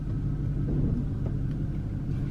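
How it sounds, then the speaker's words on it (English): A 2009 BMW 328i out on its first drive makes a steady low road and engine rumble from inside the cabin, constant and without talk. "go get some more gas and actually drive it for the first time."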